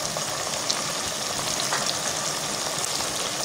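Red chili, salt and turmeric sizzle in hot oil over a raised flame while chole is being cooked: a dense, steady crackling hiss that holds close and loud throughout, with small pops and no voices.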